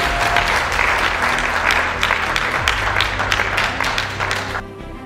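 A gala evening crowd gives sustained, loud applause, steady clapping that continues for about five seconds before cutting off.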